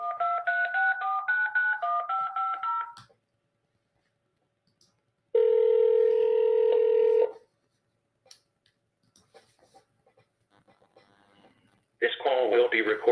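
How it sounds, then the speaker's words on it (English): A phone line dials out with a run of quick keypad tones, then a pause, a single sustained ringback tone, more silence, and a short burst of tones again at the end, all clear and close with no one talking. "dialing again"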